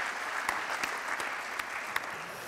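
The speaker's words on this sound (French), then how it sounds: "Vous pouvez l'applaudir quand il monte sur scène" An audience at an awards ceremony applauds as a guest comes on stage, a steady wash of clapping with a few sharper individual claps standing out, moderately distant.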